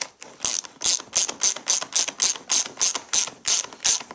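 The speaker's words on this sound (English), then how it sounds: "you can go ahead and torque the bolts down" A ratchet wrench tightens bolts on a Cipher Auto CPA1000 racing seat bracket, a loud, close run of quick rhythmic clicking bursts, each stroke a dense rattle of pawl clicks, with no speech.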